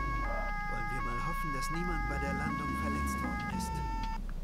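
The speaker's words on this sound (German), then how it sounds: "Sirene vielleicht?" A police car siren in the Autobahn Polizei Simulator 2 game wails in a steady repeating two-tone pattern, fairly faint and continuous, with someone talking over it and engine rumble underneath.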